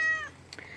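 A cat lets out a single short, close meow, with a brief second cry right after it, outdoors in a garden.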